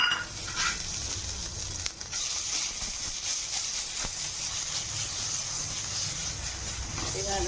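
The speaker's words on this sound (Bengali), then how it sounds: "এভাবে একটু ভেজে নেব।" Steady soft sizzle of ground pumpkin leaf paste frying in a pan, with salt and Kashmiri red chili powder added, a continuous hiss with occasional faint stirring sounds.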